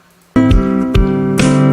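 Playing on acoustic guitar, tapping the guitar body like a drum: a loud, close ringing chord punctuated by several sharp percussive knocks, with no voices.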